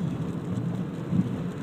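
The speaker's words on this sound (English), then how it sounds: "Look at it rain again." Steady rain with a low rumbling of thunder in downtown Grandville, a continuous dense wash with a slightly louder swell near the end, and no voices.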